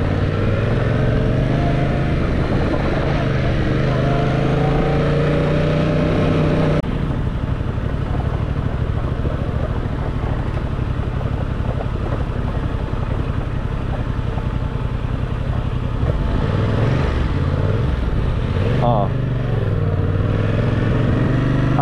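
A Yamaha XSR700 street motorcycle rides along a beach road, its engine a steady, close drone with wind rush, holding an even level throughout with a slight pitch shift partway.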